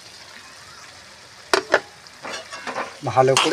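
Fried vegetables tossed into cooked-down spice masala with Kashmiri chilli powder in a pan, quiet at first, then bursts of sizzling and scraping stirs, with a brief spoken phrase over the cooking.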